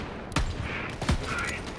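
A weapon reload in the Borderlands 3 shooter game, heard as two sharp mechanical clacks about three-quarters of a second apart over steady background game noise.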